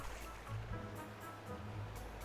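Flowing water in the video game A Hat in Time makes a steady, full rushing wash that runs throughout at a constant level.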